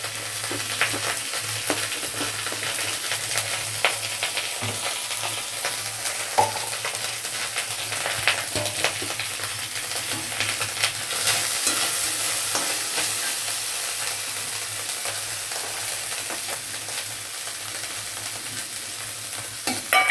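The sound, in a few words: frying spice masala (coriander, cumin powder) in pan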